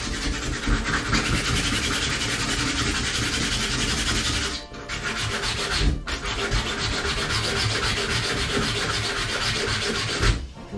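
A 3D-printed Buster Sword replica, Cloud Strife's weapon, is sanded by hand. The close, continuous rough rubbing has brief pauses between strokes, with no speech.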